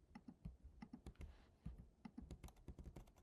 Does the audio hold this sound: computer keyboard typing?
yes